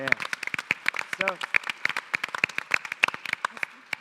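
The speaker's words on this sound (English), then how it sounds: "You can give her a round of applause." Scattered clapping from a small audience at a startup pitch competition, sharp individual claps coming in an uneven patter rather than a full roar, with a voice talking over it.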